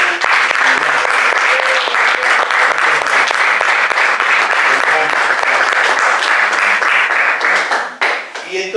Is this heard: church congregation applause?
yes